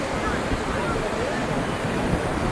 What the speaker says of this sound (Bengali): দেখো ঘুরতে এসেছি সমুদ্রের পাড়ে